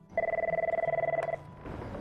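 A telephone rings with a rapid trilling bell for just over a second, loud and close, then stops, leaving quiet room noise behind.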